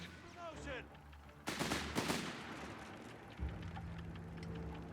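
Gunfire erupts during a Company of Heroes 3 multiplayer battle, with a dense burst of rapid shots and impacts over rumbling game ambience and continued distant firing afterward.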